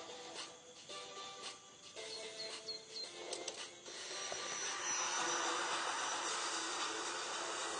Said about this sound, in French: nous avons justement l'aspirateur en action